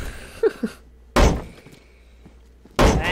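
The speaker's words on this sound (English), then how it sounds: "Do we want to start breaking the bottom door, too?" Heavy thuds of a door being battered during a base raid in DayZ, two loud booming impacts about a second and a half apart, with short muffled knocks and faint voices between them.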